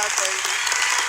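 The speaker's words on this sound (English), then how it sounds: "Wow, the cheer." Crowd cheering and applauding at a church gathering, a dense continuous wash of clapping and voices held steady through the moment.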